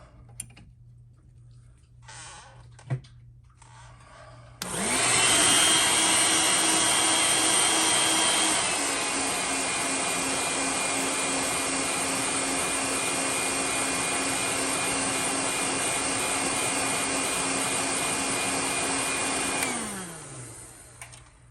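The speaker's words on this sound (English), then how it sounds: "So we'll go ahead and heat set that." A heat gun switches on with a sudden loud steady whoosh and motor whine, running continuously for about fifteen seconds while heat-setting paint on a pewter sunfish fishing lure, then winds down; a few faint clicks precede it.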